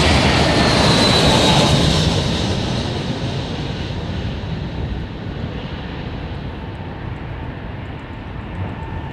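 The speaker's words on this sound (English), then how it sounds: "with him running the engines up" Airliner jet engines running up on the ground at London Heathrow Airport make a loud, steady roar with a broad whine that eases slightly after a couple of seconds and then holds.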